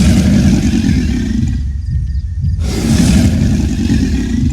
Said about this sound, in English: And so here's its broadcast roar.